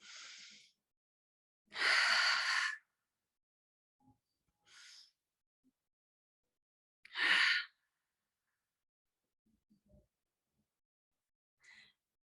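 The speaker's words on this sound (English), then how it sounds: "breathe on your own really, really deeply, inhaling through the nose and exhaling through the mouth" Deep breathing demonstrated during a breathwork and pranayama session: loud, airy inhales through the nose and exhales through the mouth come in separate bursts with pauses between, alongside a few softer breaths.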